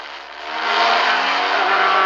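The leading Matra race car pulls away during the 1973 Le Mans 24 Hours, its engine rising to a loud, steady, high-pitched howl close by, with no talking.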